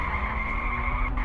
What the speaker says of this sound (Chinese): 这辆小车要把它开到二楼那个地方